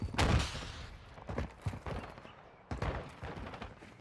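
AI enemy gunfire in Call of Duty DMZ, a scattered run of sharp shots and thumps in irregular bursts, fairly quiet and distant, with faint voice underneath.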